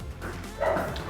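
A dog barks a few quick, muffled yips close by indoors, one brief burst over low room noise.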